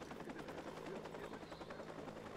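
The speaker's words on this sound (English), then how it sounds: "Oh, the chopper can see me." A helicopter in the Watch Dogs video game hovers nearby, giving a steady, fairly faint rotor drone that fills the whole moment without breaks.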